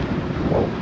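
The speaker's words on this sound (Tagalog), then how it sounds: "Paahon tapos sa lubong pa yung hangin." A strong headwind roars across the microphone while cycling uphill in Qatar, a brief, continuous, muffled buffeting.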